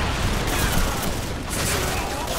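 Incoming mortar fire in a war video game: a dense, loud, continuous barrage of explosions and gunfire rumbling without a break.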